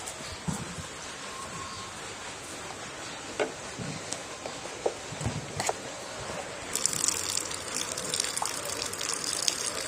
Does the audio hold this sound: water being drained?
yes